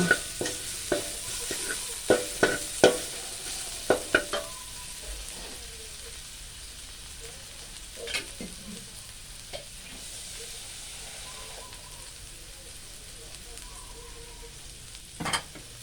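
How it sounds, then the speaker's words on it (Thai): Ginger is stir-fried in a pan. A few sharp spatula clinks and scrapes come first, then a soft, even sizzle continues steadily, with another clink near the end. "ขิงลงไปคั่ว ให้หอมหอมนะคะ"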